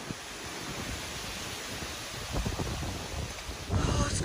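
Blustery autumn wind near Lake Superior on the Keweenaw Peninsula, a steady broadband rush with a few stronger gusts toward the end, close to the microphone with no talking.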